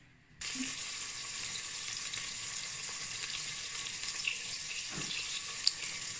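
Meat frying in a pan after being separated from its cooking water, a steady loud sizzle that starts abruptly and holds, close by, with an occasional clink of a utensil.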